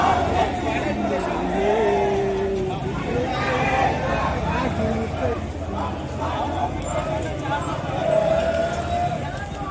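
A dense Sunday street crowd keeps up a constant babble of many voices with traffic noise and a passing siren-like tone beneath, while someone talks close over it.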